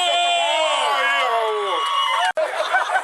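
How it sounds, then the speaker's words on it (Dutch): A crowd at a 2012 stage event cheers loudly, with high whoops and shouts over a dense roar that briefly drops out, then returns as scattered cheering and noise. "Applaus!"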